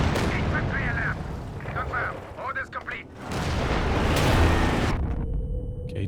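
Artillery shells from a creeping barrage in Company of Heroes 2 land one after another in a loud, rolling series of booms and rumbles. Game voices and sounds come and go between the blasts.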